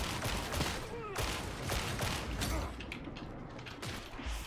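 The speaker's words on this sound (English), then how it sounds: "Oh, and they're shooting too." Enemies firing guns in the video game Warhammer: Darktide, a steady crackle of distant and mid-range shots with clanks and creaks of combat throughout, no clear voice over it.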